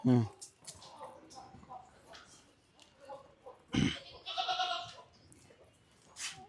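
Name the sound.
African Boer goats bleating on a farm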